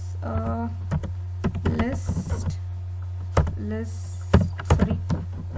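Keys tapped on a computer keyboard while code is typed, scattered clicks mixed with someone speaking over a steady low hum.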